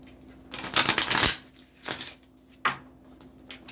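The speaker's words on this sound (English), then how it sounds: "Just going to shuffle it." Close-up riffling of a deck of cards in a couple of quick bursts, followed by a single sharp tap as the deck settles.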